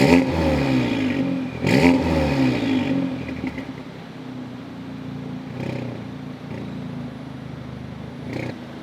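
An Audi S3 with a Stage 2 tune idles, its raspy exhaust thrumming near and fairly loud, with a brief rev and a few clattering knocks before it settles to a steadier rumble.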